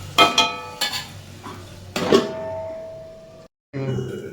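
Metal lid set onto a kadai (wok) of vegetables and fish, producing a few loud, close clanks with bright ringing tones, then a short silence before a fainter clatter.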